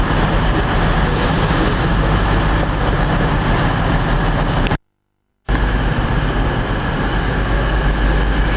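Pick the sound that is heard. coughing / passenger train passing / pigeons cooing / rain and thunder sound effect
passenger train passing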